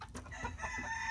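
Roosters from the same clutch, kept together in a bachelor pen, crow and cluck in a short burst of harsh calls, moderately close and alone without talk.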